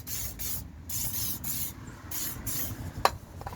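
GT85 PTFE spray lubricant sprayed from an aerosol can around rusty parts of a Rover 45, several short hissing bursts in a row followed by a sharp tap.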